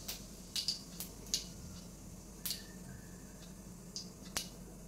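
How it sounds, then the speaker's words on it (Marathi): Mustard and cumin seeds splutter in hot oil, giving about ten sharp, scattered pops and crackles over a quiet low hiss. The sound is faint and close, and nobody speaks. "मोहरी तडतडले, जिरे टाकायचे"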